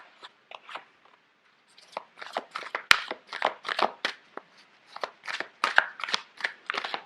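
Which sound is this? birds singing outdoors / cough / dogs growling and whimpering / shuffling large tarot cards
shuffling large tarot cards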